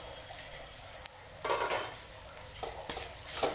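Gram flour pitla made from ground chana dal paste is sautéed in a pan with salt and coriander, giving a close, soft sizzle broken by quick stirring scrapes and light clinks of a spoon on metal.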